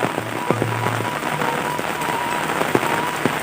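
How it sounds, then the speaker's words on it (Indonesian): Heavy rain pours steadily over a Sundanese village, a dense, continuous hiss with scattered sharper drops and splashes standing out close by, heard alone without talk. "beginilah ya suasananya kalau lagi hujan di kampung halaman saya"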